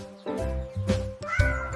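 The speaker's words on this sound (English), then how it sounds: "Cat says meow." A cat meows in a children's alphabet song, with several drawn-out mewing cries heard loud and near over a steady music backing.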